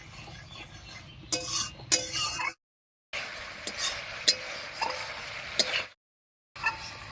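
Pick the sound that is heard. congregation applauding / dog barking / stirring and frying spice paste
stirring and frying spice paste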